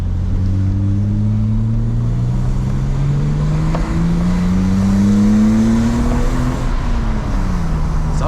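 A BMW E30 325i's 171 hp engine drones loudly from inside the car on a test drive, revs climbing steadily through a gear before easing off, with no talk over it.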